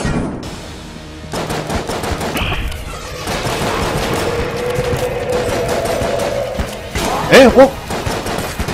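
Magnum gunfire in Enter the Gungeon comes through as rapid punchy shots over busy game sounds, while someone talks briefly.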